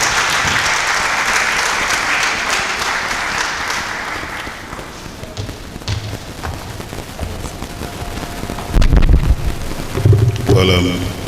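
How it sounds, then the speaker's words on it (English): Audience at a women's business empowerment summit applauds steadily for several seconds as a speaker walks to the podium, the clapping fading before louder thumps and a voice near the end. "can you clap for him as he goes?"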